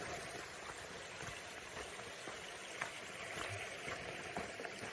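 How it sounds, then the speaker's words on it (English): A small creek about a foot and a half wide on the Pacific Crest Trail near Eagle Rock trickles and babbles quietly, a faint, continuous watery murmur with no voices. "that creek is only about foot and a half wide"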